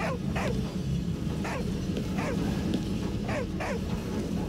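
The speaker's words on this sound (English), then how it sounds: "Oh, you keep barking then." Dog in a VR train video game barking repeatedly in short yips, about six sharp barks spaced irregularly over a steady low background hum.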